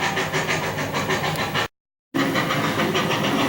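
A brand-new old-school model train locomotive runs on its track at slow prototypical speed, giving a steady hissing rumble with a soft rhythmic pulse, broken by a brief gap of silence midway.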